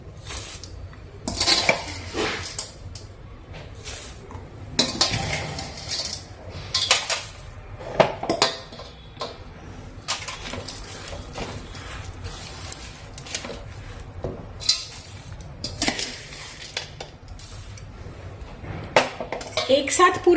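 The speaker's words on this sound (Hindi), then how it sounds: "अब इसमें हमारे जो ड्राई फ्रूट्स हैं उनको हम थोड़ा थोड़ा करके डाल देंगे और उनको मिलाते जाएंगे।" Dry fruits are stirred into a cooled, sugar-free laddoo mixture in a pan: intermittent scraping and clinking of a spoon against metal in irregular bursts, close and fairly quiet between strokes.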